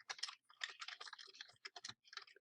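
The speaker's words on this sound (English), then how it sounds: "I'm going to start typing." Quick bursts of typing on a computer keyboard while a hotel price list table is filled in, crisp close key clicks in irregular clusters with brief pauses, quiet and without talking.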